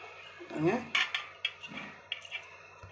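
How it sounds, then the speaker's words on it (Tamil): Cut taro root pieces are swished and rinsed in water in a bowl, making close splashing and clinking against the vessel, with a voice talking quietly alongside. "இது வாட்டரில் அலசிட்டு எடுத்துக்க வேண்டியது தான் பாருங்கள் இன்னொரு பீஸ் நம்ம வந்து அலசி காமிக்கிறேன்"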